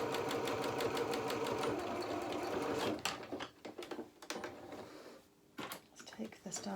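A sewing machine stitches a felt doll's duffle coat at a 1/4 inch seam, whirring in a fast steady run before breaking into short stop-start bursts near the mic, with light talk in the background.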